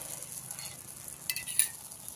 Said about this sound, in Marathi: आता थोडंसं त्याला कडेनं आपण तेल सोडून घेऊ.